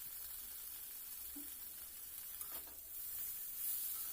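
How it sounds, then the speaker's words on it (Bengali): Maggi noodles tossed with soy, chilli and tomato sauces in a pan give a soft, steady sizzle with faint stirring scrapes, quiet and continuous with no talking. "সমস্ত সস দিয়ে দেওয়া হয়ে গেলে আরও একটু টাইম আস্তে আস্তে কষিয়ে নেব আমি সব কিছু একসাথে।"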